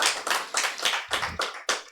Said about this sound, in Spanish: ¿Por qué no le damos un fuerte aplauso al Señor, recordando lo que Él hizo?